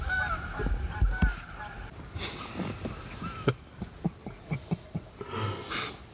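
A few goose honks at the start, outdoors during a Tennessee turkey hunt, followed by a series of sharp thuds or clicks spaced irregularly, with faint breathy noise in between.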